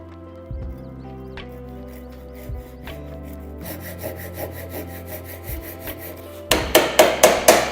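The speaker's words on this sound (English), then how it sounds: "let's use our new saws while we cut them" Hand saw cutting through wood during a joint-cutting test of new budget woodworking tools, starting with sparse scrapes and settling into steady sawing strokes that grow to a loud, rapid rhythmic burst near the end.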